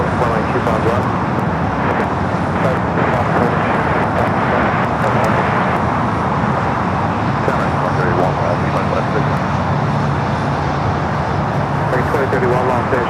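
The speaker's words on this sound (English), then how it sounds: "the Dreamliner up next for arrival on the north side" A Boeing Dreamliner airliner arrives at Los Angeles International Airport. A broad, steady roar of jet engine noise holds without a break, mixed with distant traffic hum. Faint radio talk sits underneath.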